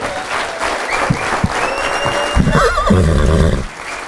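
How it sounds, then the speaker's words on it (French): Comedy club crowd clapping loudly for a stand-up comedian, a bright steady burst, joined midway by a loud wavering, whinny-like voiced cry before fading. "On l'applaudit encore une fois"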